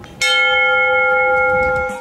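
A wish bell at the Okhotsk Tower observation deck in Monbetsu, Hokkaido, is struck once and rings loudly with a long, clear, sustained tone that slowly fades, with no voices.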